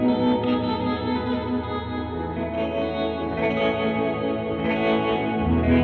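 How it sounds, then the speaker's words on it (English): A sustained, processed guitar tone through a Catalinbread Tremolo8 pedal with tremolo and reverb in parallel, drenched in long reverb trails with a gentle pulsing wobble, ringing on continuously without pause. "The only difference is the reverb has some longer trails"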